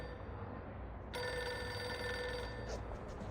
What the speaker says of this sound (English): The assistant, buried in paperwork, fails to react to the ring.